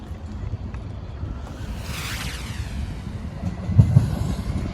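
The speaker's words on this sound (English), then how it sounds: "We've got a train coming." A train nearing a level crossing on a local railway line, heard as a steady low rumble with wheel noise and a passing whoosh that swells in the middle, then a couple of louder knocks near the end, with no talk.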